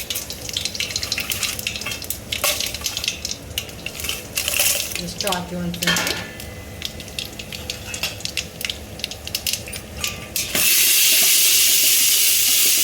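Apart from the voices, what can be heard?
spices sizzling in hot oil for tempering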